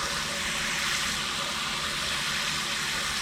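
A hose runs water into a ShopVac bucket in a backyard, giving a steady, close rushing and splashing hiss that continues unbroken with no talking.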